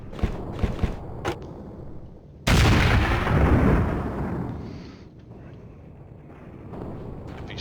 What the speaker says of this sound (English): gotta use the grenades for something